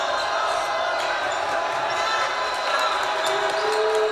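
A home student section crowd roars and cheers at a high school district-round basketball game against Grayling, a steady loud wash of voices over the whole stretch with some talk mixed in.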